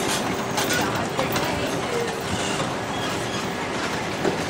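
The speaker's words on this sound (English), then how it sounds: "Short train ride." A small wheeled zoo train ride, shaped like a train but running without tracks, rumbles and clatters steadily throughout with a continuous rolling drone, while people talk in the background.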